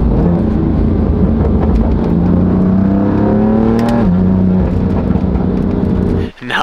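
A Toyota Supra engine with an aftermarket intake revs hard up close, pitch climbing steadily then dropping back, with a loud continuous intake roar that cuts off abruptly at the end.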